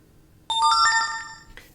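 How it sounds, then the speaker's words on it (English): An Android phone plays a ServiceNow Mobile notification: a bright, clean melodic chime of several quick rising tones that rings out alone and close, then fades. "now we're just going to wait on the mobile notification."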